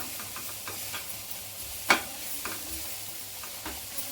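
Ingredients for kara pongal stirred and sautéed in a pan, a soft steady sizzle with faint scraping stir strokes and one sharper clink, heard alone.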